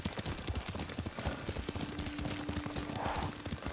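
Horse hooves clip-clop at a steady riding pace in Ghost of Tsushima, a continuous rhythmic clatter with a brief faint tone mid-clip.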